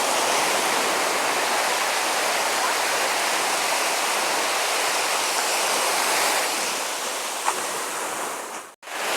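Sea waves break along Tannirbhavi beach in Mangaluru, a loud, continuous wash of surf that fills the whole stretch without voices, briefly dipping near the end.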